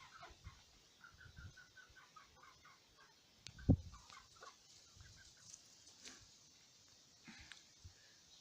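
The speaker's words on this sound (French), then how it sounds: "Donc ici j'ai 13 poussins." Thirteen chicks on a farm give repeated soft high cheeps in short runs, faint and close, with a brief thump and light rustling midway.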